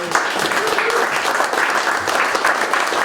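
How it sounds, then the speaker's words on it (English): An audience at a weekly startup meetup applauds a guest speaker, a loud, dense and continuous round of clapping from many hands, close and sustained throughout. "Let's give him a round of applause"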